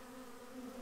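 Bees buzz around a hive fitted with a pollen trap, a steady droning hum heard briefly and faintly at close range with no voices.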